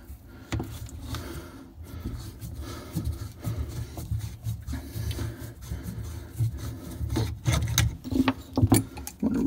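Water pipe being cut under a sink while replacing a shut-off valve, heard as close, uneven rasping and scraping strokes with small knocks, running steadily through the whole stretch with no talk.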